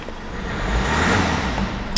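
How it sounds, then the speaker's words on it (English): A 2017 Honda CR-V with a 1.6 engine starts by push button and settles into a steady, close, moderately loud idle hum lasting the whole moment, with no talking. "Let's just start the car"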